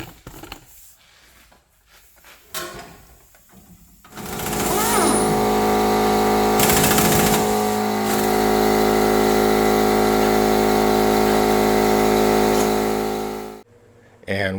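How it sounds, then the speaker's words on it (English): An air impact gun removes bolts on a Mustang K-frame with a loud, sustained pneumatic rattling burst after some quieter shop handling noises, ending abruptly. "Get it with the air gun."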